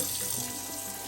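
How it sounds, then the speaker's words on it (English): Steady rush of cold tap water filling a plastic bag of crappie fillets, a continuous close splashing hiss with no pauses. "I'm gonna fill this thing up with water,"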